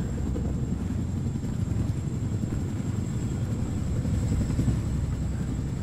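A helicopter in the video game Wolfenstein The New Order gives a steady, droning rotor rumble that holds at an even loudness throughout, with no voices.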